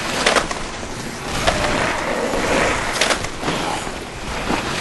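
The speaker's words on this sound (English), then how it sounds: "Gunfire and skateboard." A steady rolling rumble with a few sharp clacks of skateboard wheels over pavement, loud and close amid other game noise in Dead Rising.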